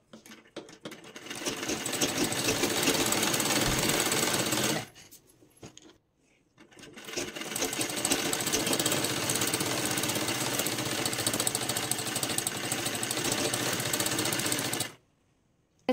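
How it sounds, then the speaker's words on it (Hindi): A sewing machine stitching the neckline of a Sabyasachi-style blouse runs in two long steady bursts, close and loud, with a short pause between them. "बराबर सिलाई करते हुए इसे कंप्लीट कर लेना है"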